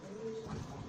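A young Kaldom pigeon coos once, a short low throaty call heard close and fairly quiet, with faint background noise and no speech.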